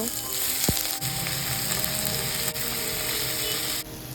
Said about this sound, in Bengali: এবারে কড়াইতে তেল দিয়ে ভাজতে বসিয়ে দেব। দুটোকে একসঙ্গেই দিয়ে নুন হলুদ দিয়ে ভেজে নেব।